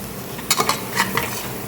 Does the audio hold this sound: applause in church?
no